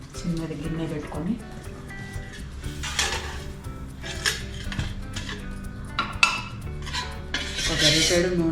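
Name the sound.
small cooking pot being placed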